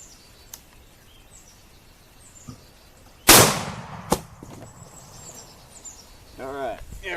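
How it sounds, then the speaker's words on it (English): A Judge revolver fires a Remington slug downrange outdoors, one loud, sharp close blast followed by a fainter crack, with birds chirping quietly and soft voices in the background. "These are Remington sluggers, firing downrange."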